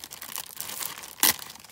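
Wrapping paper crinkles and rustles while a parcel is unwrapped: soft, steady crackling throughout, then one brief, louder tearing rip near the end, close by, with no voices.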